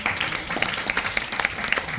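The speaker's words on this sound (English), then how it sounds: "Another round of applause." An audience claps steadily, a dense patter of applause with no speech, sustained throughout at moderate volume.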